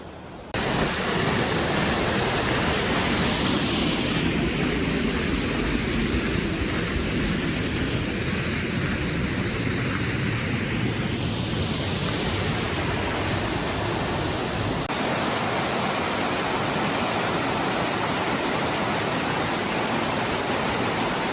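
Steady broadband rush of flowing creek water from Cottonwood Creek near Bright Angel on the Arizona Trail, close and continuous throughout with no voices.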